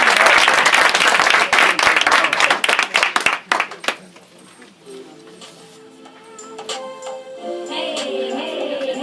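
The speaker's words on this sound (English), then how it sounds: "Please clap, man, for Shavonda and her girl" Audience at a community gathering breaks into loud, dense applause that thins into scattered claps and fades within a few seconds, followed by quieter room sound and talking.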